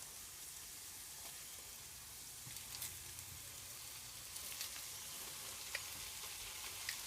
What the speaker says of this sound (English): My steak's cooking now.